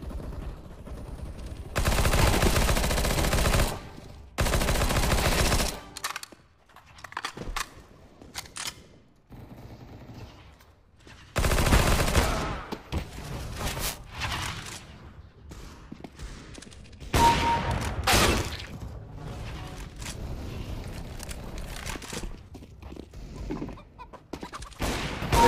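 Gunfire in a death match video game: loud bursts of rapid automatic shots and single cracks, clustered in volleys with quieter gaps, close and dominant, with occasional game sounds between.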